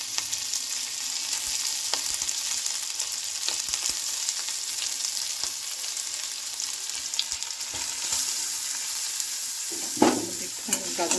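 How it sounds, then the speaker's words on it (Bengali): Garlic and ginger frying in oil in a wok, a steady bright sizzle with occasional stirring scrapes and a louder burst near the end. "কড়াইতে তেল দিলাম, একটুখানি রসুন ফোড়ন দিলাম, একটু আদা দিলাম"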